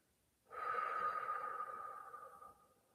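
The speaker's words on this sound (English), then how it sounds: "you can give a big release breath through your mouth" A single big breath exhaled through the mouth during a guided meditation, a steady breathy rush that starts abruptly, holds for about two seconds and then tapers away, close and alone with no talk.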